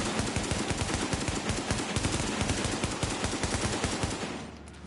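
Sustained automatic gunfire in a PS4 shooter game, a dense fast string of loud close shots with slight rhythm variation, fading out near the end.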